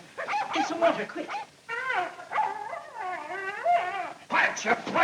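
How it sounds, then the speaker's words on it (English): A dog in a 1940s farmhouse drama howls and whimpers in long, wavering, rising-and-falling cries, close and fairly loud, with brief pauses between phrases and a faint voice near the end. "Let him howl if it makes him feel good."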